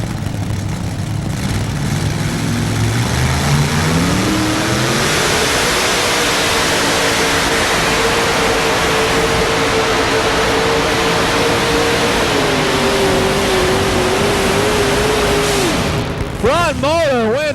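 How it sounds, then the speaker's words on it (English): A three-engine modified pulling tractor roars at a 1993 NFMS tractor pull in Louisville, Kentucky, its engines climbing in pitch and holding a loud, sustained howl, then breaking off near the end amid crowd and announcer noise. "3-engine modifieds. On the line we go. Farmer Banner Brothers tractor."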